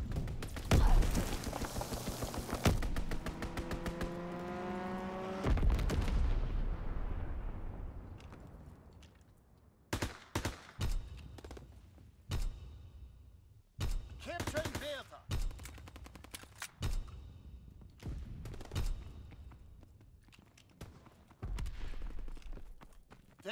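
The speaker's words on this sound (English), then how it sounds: "Enemy strafing run inbound." An enemy strafing run in the Call of Duty WWII multiplayer game on the V2 map: dense rapid machine-gun fire and explosions at first, easing into scattered sharp gunshot bursts and bangs.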